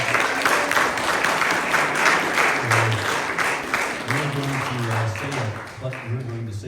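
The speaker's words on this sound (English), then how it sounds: "give you all a round of applause right now" Applause for veterans at a community meeting, a dense burst of clapping from the room that carries on with a voice speaking over it in the later part.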